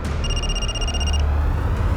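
A telephone rings in a Hindi crime drama scene: a single electronic ring tone lasting about a second, clear and fairly loud over a low room rumble, then quiet.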